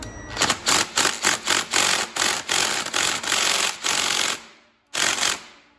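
An impact wrench tightens a magneto stator nut, hammering in a string of short, loud rattling bursts, then a brief pause before one last burst.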